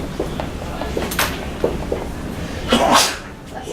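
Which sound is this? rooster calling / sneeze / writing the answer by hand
sneeze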